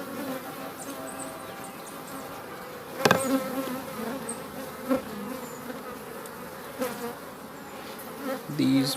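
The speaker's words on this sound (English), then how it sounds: "These bees, they are so" Honey bees buzz densely around beehive frames during hive work, a close continuous drone with a few louder knocks and handling sounds.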